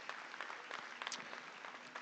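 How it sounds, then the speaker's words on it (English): An audience at a state fair livestock show applauds breed champion gilts, a dense continuous wash of many hands clapping, faint and somewhat distant throughout. "Let's give all of our breed champions a big round of applause."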